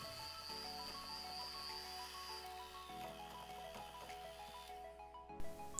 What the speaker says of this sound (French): Et on va l'assouplir au batteur.